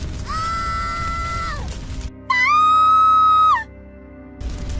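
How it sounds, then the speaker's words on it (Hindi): A sharp, high, wavering scream echoes from a forest as a story sound effect, rising in two long sustained cries separated by a brief pause, loud and alone with no talking. "तभी जंगल की ओर से एक तीखी चीख गूंजी।"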